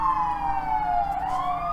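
An ambulance siren wails outside, its strong tone sliding down and then rising again, loud and sustained over a low rumble with no talking.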